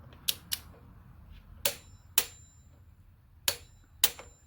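Sharp clicks from a torque wrench tightening the fittings of a Subaru OEM oil cooler on a BRZ/FRS/86/GT86, heard in three spaced pairs of close, crisp snaps over a quiet background.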